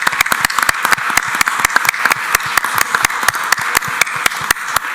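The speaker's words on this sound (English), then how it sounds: "Please, a warm round of applause to them" Conference audience applauds the panelists after a discussion on materials for light, safe green vehicles; a small crowd claps in sharp, distinct close-up hand strikes over a steady bed of applause, with no talking.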